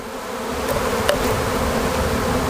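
Honey bees hum steadily around an opened hive during a spring inspection, a dense continuous buzz with a few individual bees droning closer for brief moments.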